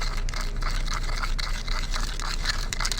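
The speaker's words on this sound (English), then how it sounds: "And I'm going to stir it all up." Sandbox sand and water being stirred together in a container, a continuous gritty scraping and swishing at close range, fairly even throughout.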